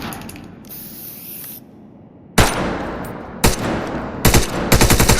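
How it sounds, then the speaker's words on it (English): Automatic gunfire in the tactical shooter Wardogs, with loud bursts striking and rebounding off the edge of a shipping container; a steady hiss precedes sharp bursts, ending in rapid repeated shots close by. "Fire at the edge of the container and watch the bullet rebound."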